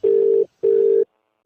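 Two long steady telephone tones sound while a number is being called, each lasting about half a second with a short gap between them, then a brief click at the end.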